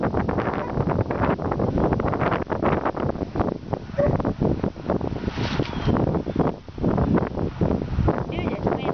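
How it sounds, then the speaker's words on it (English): Strong gusty wind buffets the microphone outdoors, a loud, rough, continuous rumble with uneven bursts, while a person talks over it. "this wind is really kicking up today"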